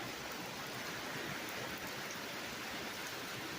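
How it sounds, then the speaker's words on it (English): Heavy rain pours down outdoors as a steady, dense hiss with no pauses, fairly faint and uniform, and no voices are heard. "It is pouring rain."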